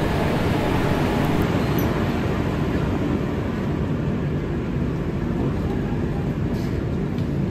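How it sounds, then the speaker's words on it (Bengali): A train rolling into Haridwar station produces a constant heavy rumble and rattle, loud and unbroken throughout, with no clear voices over it. "আমাদের ট্রেন হরিদ্বারে প্রবেশ করলো"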